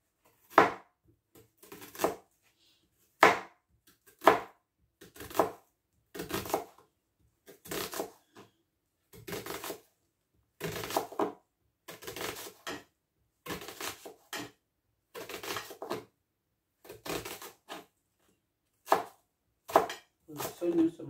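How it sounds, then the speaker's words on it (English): Knife chopping onion on a cutting board, about a dozen separate bursts of quick, sharp cuts spaced a second or so apart, close and fairly clear with faint talk in the background. "I'm cutting my onion."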